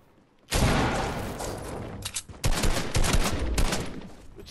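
Bursts of rapid gunfire from the Fortnite video game, loud and close, with a short pause before a second dense stretch of shots; no talk over it.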